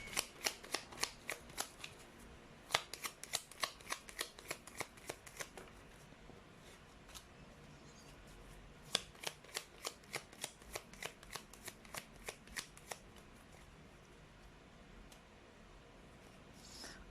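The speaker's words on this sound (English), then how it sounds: "You saw me shuffle." Tarot cards being shuffled by hand, quiet close-up bursts of crisp riffling flutters in quick series, pausing and resuming, with a soft hush between.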